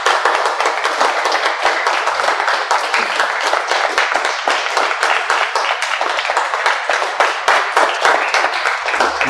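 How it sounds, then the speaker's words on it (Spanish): Congregation applauding at a church teaching session for pastors, loud and close, with rapid individual claps standing out in a continuous rhythmic burst. "Ese fuerte aplauso,"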